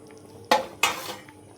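A pot of tilapia fish curry lifted off the stove makes two sharp metallic clanks a moment apart over a faint kitchen background, close and without talking.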